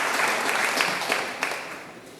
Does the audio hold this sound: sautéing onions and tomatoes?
no